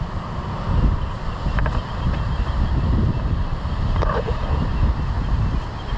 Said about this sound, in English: But we can still enjoy the waves and the seabirds.